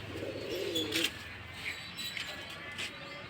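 A pair of pigeons coo softly close by, low throaty calls with a few faint chirps and light rustling over a quiet background.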